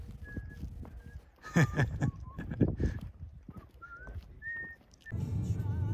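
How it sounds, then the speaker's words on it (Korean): Someone whistles a few short, bright notes between footsteps and light outdoor noise in Joshua Tree National Park, fairly close and not very loud. "휘파람을 불며 스머프처럼 걷습니다."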